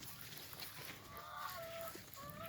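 Farmyard chickens cluck and call softly in short broken phrases over a low outdoor background on a mixed fruit and vegetable farm, moderately distant and without speech.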